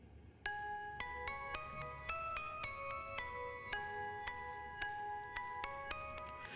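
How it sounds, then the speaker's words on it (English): A bright, bell-like synth using the Analog Sync Bell preset plays a quiet sequence of plucked notes in a steady rhythm, each tone ringing briefly over a faint low hum. "I'm using a preset called Analog Sync Bell,"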